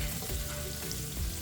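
Potatoes frying in a pan while being stirred, a short burst of dense sizzling hiss with soft scraping from the spatula.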